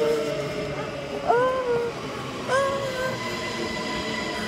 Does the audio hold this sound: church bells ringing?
no